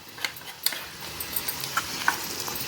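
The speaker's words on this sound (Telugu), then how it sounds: "ఇక స్టవ్ కట్టేసి మనం ఇక ఈ తాలింపు తీసేసుకొని మనం రైస్ కలుపుకున్నాం చూడండి" Cooked rice being stirred and mixed with a raw mango tempering in a pan for mango pulihora, giving soft scraping and stirring with a few sharp clinks of the spoon against the metal, close and fairly quiet.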